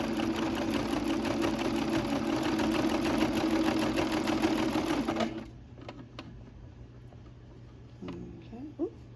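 Janome MC550E embroidery sewing machine running fast and steady for about five seconds, a loud close mechanical drone that suddenly stops, leaving quiet room tone with a few faint clicks and handling noises.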